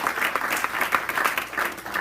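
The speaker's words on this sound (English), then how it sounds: "give yourselves a great round of applause" An audience at an opportunity night presentation breaks into a brief burst of applause, dense overlapping claps at moderate level throughout.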